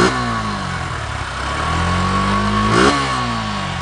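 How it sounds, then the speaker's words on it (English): A small 155cc air-cooled Suzuki Gixxer motorcycle engine revs up and drops back twice, buzzy and close, climbing in pitch with each blip before settling toward idle. "So this is how the engine sounds."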